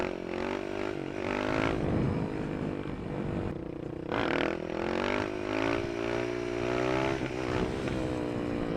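Supermoto motorcycle engine revving through wheelies, the single-cylinder note rising and falling with small throttle blips and one sharp surge midway, loud and continuous throughout.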